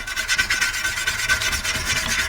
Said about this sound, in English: So we've been alternating between brass brush and Scotch-Brite pad.